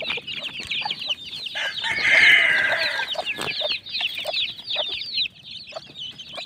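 Chicks and chickens clucking and cheeping steadily at feeding time, with a rooster crowing near the middle, busy overlapping calls from a flock close by.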